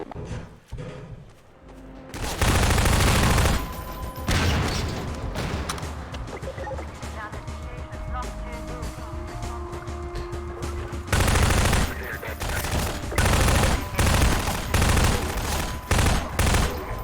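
Pulse rifle fire and a pulse grenade in Half-Life 2: loud bursts of automatic gunfire with heavy booming blasts, sustained combat noise with several louder surges across the stretch.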